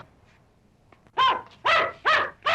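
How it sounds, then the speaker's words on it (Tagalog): After a quiet moment, a poodle gives three sharp, close barks in quick succession. "Ay, ay, yung aso! Oh, yung poodle!"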